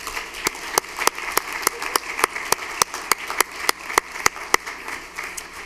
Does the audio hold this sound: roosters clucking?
no